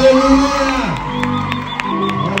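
A church crowd cheers and whoops with high, wavering ululation-like cries and some shouting, loud and close, with voices mixed throughout.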